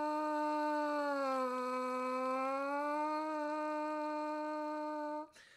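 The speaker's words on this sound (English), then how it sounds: "we're going to play a long note and then we're going to try and bend the pitch so it goes up and down" A brass mouthpiece buzzed alone on one long sustained note, its pitch sagging down and then rising back up, close and steady with clear harmonics before stopping abruptly.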